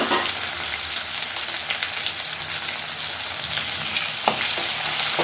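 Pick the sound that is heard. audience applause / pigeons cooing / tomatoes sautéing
tomatoes sautéing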